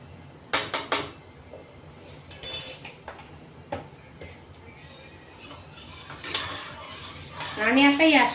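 A metal spatula scrapes and clanks against a kadhai while thick mawa is stirred, giving sharp intermittent clinks and scrapes, close and loud, with a bit of speech near the end.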